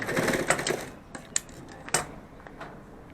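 A sewing machine stitches a seam in a fabric pen pouch, giving short bursts of rapid mechanical chatter separated by brief pauses and a few clicks, close and fairly quiet with no voices.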